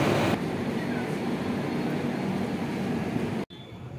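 Inside the Sealdah–Jammu Humsafar Express, train 22317, at Saharanpur station, a loud, steady rumble of the rail car continues for several seconds before a brief dip near the end.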